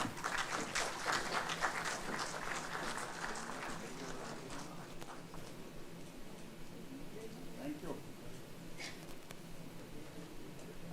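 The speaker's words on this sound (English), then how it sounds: "A huge round of applause, please." Audience applause at a government event marking two years of the PM-Surya Ghar Muft Bijli Yojana rooftop solar scheme, dense and fairly distant at first, then thinning to scattered claps and crowd rustle.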